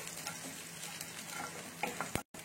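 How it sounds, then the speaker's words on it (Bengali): Chopped green chili and garlic fry gently in a little oil, a soft steady sizzle with some stirring, ending in a brief clatter and a short silence. "এগুলোকে আমি একটু ভেজে নেবো হালকা করে, আর অল্প তেলেতে ভাজতে হবে।"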